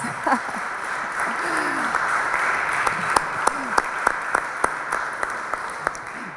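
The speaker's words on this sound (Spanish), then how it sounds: "Me aplauden los jueces de las provincias" A crowd of judges applauds steadily in a large conference room, with a few sharp individual claps standing out, and a voice briefly heard underneath.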